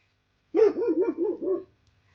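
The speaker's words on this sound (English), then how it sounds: "It sprinted over there and started barking." A dog barks in a quick run of about five yappy barks, close and fairly loud, then falls silent.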